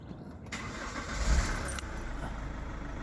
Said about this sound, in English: you have to start your car up.